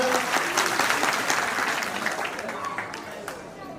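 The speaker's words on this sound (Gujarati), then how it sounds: "એકવાર જોરદાર તાળીઓથી વધાવશો" An audience at a family get-together claps for a child collecting a second-place prize, dense applause that is loud at first and gradually thins out, with a host's voice faintly over it.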